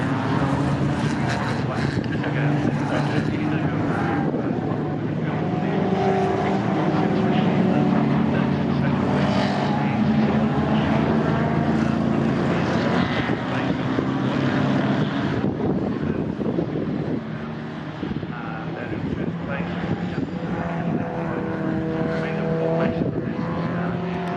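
Morgan Challenge and MG A sports cars race at Silverstone, a continuous loud engine roar with shifting tones as the cars head down the straight, under steady commentary throughout.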